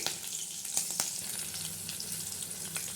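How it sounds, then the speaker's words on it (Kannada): Curry leaves fry in a pan of oil for a traditional seege soppu sambar, a soft, continuous sizzle with small crackles and pops close by and no talking. "ಸೊ ಕರಿಬೇವು ಹಾಕ್ಕೊಳ್ಳಿ, ಸ್ವಲ್ಪ ಫ್ರೈ ಆಗಲಿ"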